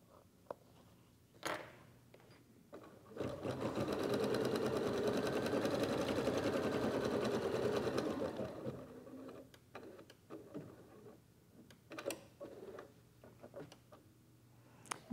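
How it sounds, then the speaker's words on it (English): An embroidery machine stitches a placement line for the snout of an in-the-hoop softie, a steady mechanical whir lasting about five seconds, with scattered clicks and taps before and after. "Now the next stitch sequence will create a placement line for the snout."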